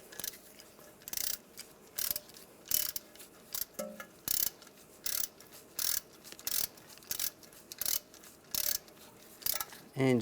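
Ratchet tightening a screw during front wheel speed sensor replacement on a 2005-2010 Dodge Dakota, heard as a series of short, evenly spaced clicking bursts, close and fairly quiet, with no talking.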